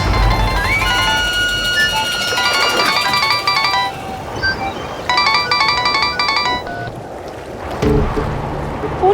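A phone ringtone chimes in a bright repeating melodic pattern, loud and close, pausing briefly and sounding again before cutting off.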